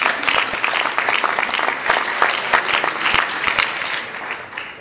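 Sustained applause from an audience at a political gathering with New Jersey Democratic legislative leaders, steady and dense across the whole stretch, loud and near with no speech over it.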